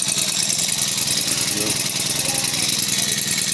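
A grass cutter's small two-stroke engine runs steadily at high speed, a loud buzzing drone with a rapid pulsing rhythm, close by and continuous.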